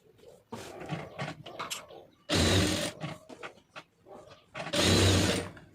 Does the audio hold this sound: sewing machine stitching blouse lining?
yes